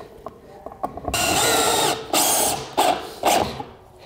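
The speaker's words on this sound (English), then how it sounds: "I'm attaching this just with screws quickly to hold it in place" A power driver sinks screws into a wooden box frame for a subfloor repair, several short loud whirring bursts of varying length separated by brief pauses, with small taps and handling noises in between.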